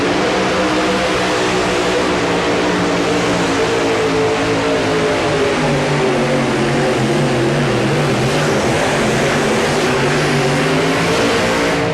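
A 2WD pulling truck's engine roars at full throttle at a 1992 truck pull in Louisville, Kentucky, tires spinning hard off the line; a loud, sustained, droning howl that holds steady throughout.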